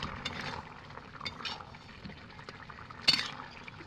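A covered pot of vegetable and fish curry simmers quietly, with soft bubbling and a few faint clinks and ticks, including one sharper knock near the end.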